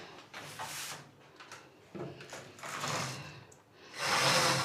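Window blinds in a hotel room in Hoi An, Vietnam are pulled open, with a series of close rattling, sliding and clattering bursts of slat movement rising to a louder final sweep.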